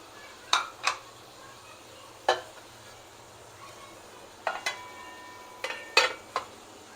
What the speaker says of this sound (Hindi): कीमे का थोड़ा सा फ्राई करेंगे।